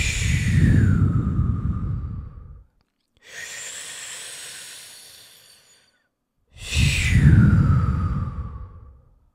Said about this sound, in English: So our breath pattern today is going to be a 2-part breath, but all through the mouth.